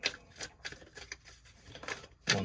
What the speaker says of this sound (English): All right, I'll do 2 more shuffles.